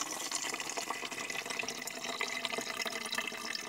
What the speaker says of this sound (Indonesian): Kemudian kalian buka tutup atasnya, maka airnya akan keluar.